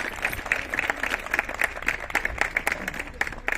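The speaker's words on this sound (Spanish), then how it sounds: "Un fuerte aplauso, por favor." A crowd at a classic car event claps continuously, a dense patter of many hands throughout, fairly loud and close, with a few voices mixed in.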